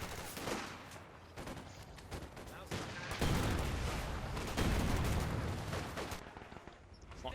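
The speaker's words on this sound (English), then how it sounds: "A lot of rockets still flying against the lieutenant." Dense battle sound from the Company of Heroes 2 strategy game, with rockets and gunfire: overlapping bursts of shots and explosions under a constant rumbling din, growing heavier toward the middle of the stretch.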